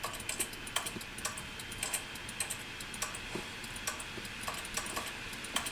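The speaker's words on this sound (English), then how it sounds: "Why everything I tap does it sound like a keyboard?" Key-like tapping in The Stanley Parable: sharp, irregular clicks like typing on a computer keyboard, repeating steadily over a quiet hum in the office setting, with no talk.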